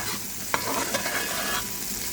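A steady sizzle of thick tomato, onion and dry fruit paste frying in a pan for fish curry, with a couple of scraping stirs from a spoon, close and continuous.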